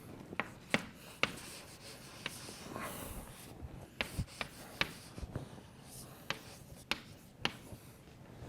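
Chalk or marker writing on a board during a physics lecture on Maxwell's equations: quiet, irregular taps and short strokes spaced across the moment, close but soft, with no speech.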